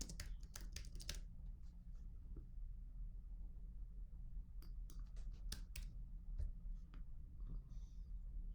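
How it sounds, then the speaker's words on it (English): Typing on a computer keyboard indoors, a quick burst of clicky keystrokes followed by a pause and then more scattered and rapid key presses, close and fairly quiet over a low steady hum. "let me type it out"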